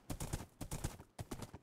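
Horses' hooves clip-clopping in a video game, three quick bursts of clustered hoof beats in an uneven rhythm, faint and close, with no talking.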